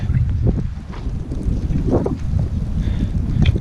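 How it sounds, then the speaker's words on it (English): Strong wind buffets an outdoor microphone on a rainy, cold walk along the Camino de Santiago, a continuous low rumble with gusty swells throughout. "it's getting windier, colder, and rainier"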